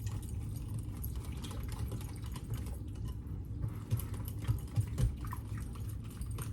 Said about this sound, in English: you're just gonna whisk this all together